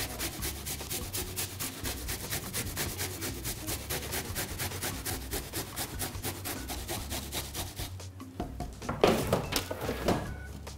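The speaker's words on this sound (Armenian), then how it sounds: "Փոքրիկ գլուխ սոխը քերում ենք եւ խորովում։" A small onion is rubbed against a kitchen grater in quick, steady rasping strokes, dense and continuous for most of the time. It breaks into a few louder scrapes near the end. Nobody speaks.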